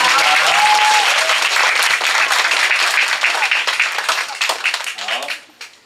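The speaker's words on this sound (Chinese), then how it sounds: "我们小朋友掌声欢迎" Children at a primary school event applaud to welcome a water resources official, a dense burst of clapping from a group that gradually thins and fades out, with a voice speaking briefly over the start.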